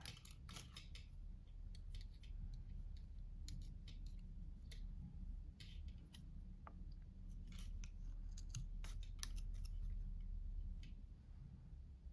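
Scissors snipping yarn while knitting a scrunchie, a series of close, crisp cutting clicks at an irregular pace over a low steady background hum.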